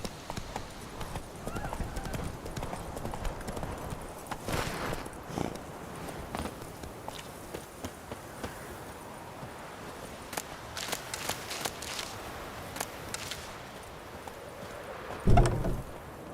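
Roach the horse from The Witcher 3 clip-clops steadily along at a brisk pace, hoofbeats running throughout with a brief whinny, a faint voice and background game ambience.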